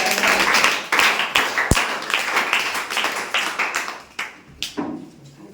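Audience applause at a Ramayana quiz, a crowd clapping in quick, uneven bursts that rise and fade over several seconds, fairly close and loud, with no voices over it.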